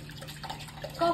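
Water poured from a kettle into a cup while making coffee in a hotel room, a short soft splashing trickle that swells briefly at the end over a low steady hum.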